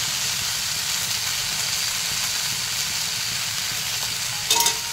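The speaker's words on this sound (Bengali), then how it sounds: "হলুদ নুন দিয়ে ভেজে নেবো একটু ড্রাই করে" Something fries in a pan with turmeric and salt for a chaalta pickle, a steady close hiss of sizzling throughout, ending with a brief clatter near the end.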